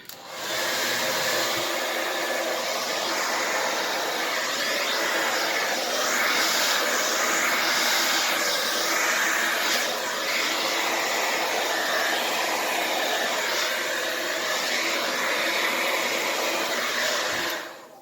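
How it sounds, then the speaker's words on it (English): A blow dryer runs continuously at close range over poured paint art with a steady, loud whooshing hiss, no voices over it. "So now here comes the blow dryer."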